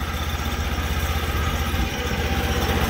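A small engine swapped into a mobility scooter idles close by, giving a steady loud rumble with a fast, even pulsing beat and no talking.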